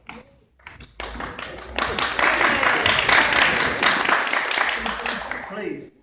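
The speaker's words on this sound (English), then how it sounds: "Please, don't clap, just throw money." An audience at a talk on an atmospheric railway breaks into applause after a brief quiet start, building to a loud, steady clapping that continues to the end.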